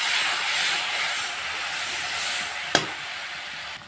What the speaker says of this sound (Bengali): তেলের মধ্যে দিয়ে দিচ্ছি আদা রসুন পেঁয়াজ বাটা। এবার হচ্ছে নেড়ে নিচ্ছি।